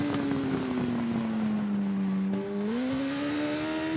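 A racing motorcycle in TT Isle of Man winds down under engine braking, a loud steady engine tone sliding lower before a brief dip and a rise as the throttle reopens, close and continuous.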